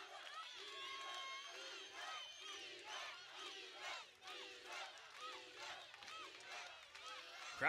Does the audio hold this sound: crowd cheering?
yes